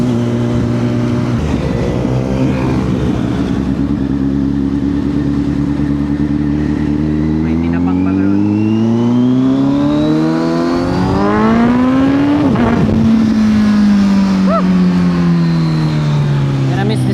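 A Kawasaki Z900 motorcycle engine idles and revs nearby, its loud tone climbing and falling in pitch across several swells, with a voice speaking over it.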